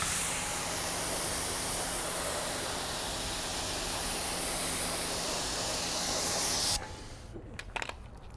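A hose sprays water steadily onto a car floor mat outdoors, a loud continuous hiss for most of the clip that cuts off abruptly near the end, leaving a few faint handling noises.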